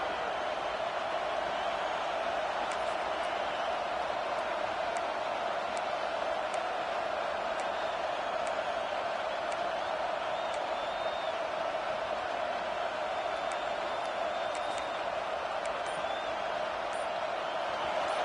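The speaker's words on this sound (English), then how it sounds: "Fourth down, and this crowd is making it miserable on this offense." A big crowd roars steadily and loudly throughout at a Notre Dame college football game against USC, a dense continuous wash of noise with faint whistles and shouts in it.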